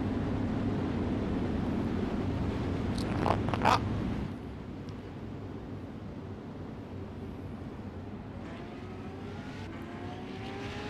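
Pro late model race cars at Cedar Lake drone as a distant engine rumble that drops slightly partway through, with a brief louder burst early on and faint rising engine tones toward the end.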